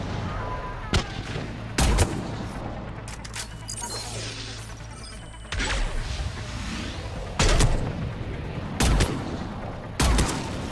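Gunfire in the video game Mass Effect 3, with sharp, loud shots spaced every second or two over a dense bed of explosions and battle noise.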